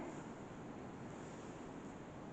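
Steady, dense rushing noise with no breaks, strong wind buffeting outdoors at a churchyard, constant and loud throughout with no voices.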